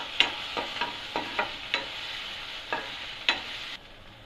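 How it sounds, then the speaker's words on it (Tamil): Ginger garlic paste and onions sautéing in a pan for aloo paratha, a soft steady sizzle punctuated by regular spatula strokes scraping the pan, ending abruptly. "இஞ்சி பூண்டு பேஸ்ட் வதங்கிடுச்சு"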